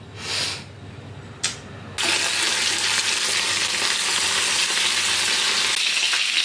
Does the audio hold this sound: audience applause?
no